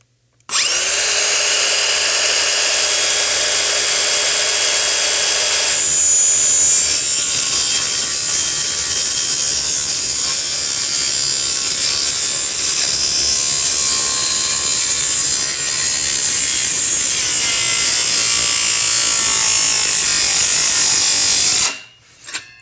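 A battery power saw cuts through wood for a vehicle bumper assembly, a loud continuous whining, rasping cut that runs steadily for about twenty seconds before stopping, close by and with no talking.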